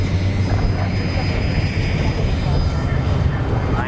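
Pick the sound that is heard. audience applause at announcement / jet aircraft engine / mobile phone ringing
jet aircraft engine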